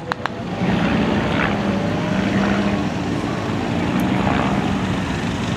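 A Tiger propeller biplane flying at the Plzeň air show, its engine droning steadily and loudly overhead for several seconds, with open-air crowd ambience and no talking.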